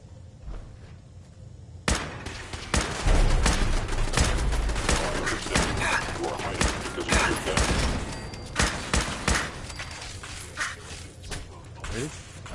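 A video game turret fires from a floor below in rapid bursts of gunfire, sharp repeated shots over several seconds with mechanical clatter, and a voice talking over it.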